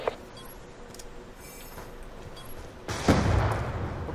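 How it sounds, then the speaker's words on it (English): A grenade explosion in a first-person shooter, one loud close boom that rolls on for about a second after faint earlier shots and distant gunfire. "Throw a grenade!"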